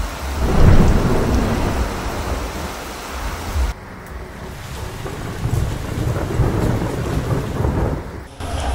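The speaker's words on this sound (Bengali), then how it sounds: "মেঘ ডেকে শুরু হয়ে গেল ঝমঝমিয়ে বৃষ্টি" Heavy rain pours steadily at a tea-garden resort in the Dooars with deep rumbles of thunder rolling through, loud and close, the downpour continuing after a brief dip midway.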